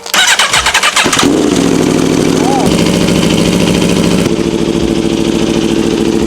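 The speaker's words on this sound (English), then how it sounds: "All right, let's turn the bike on." A sportbike engine cranks briefly and fires up, then settles into a loud, steady idle with a slight rise in revs partway through, close to the listener.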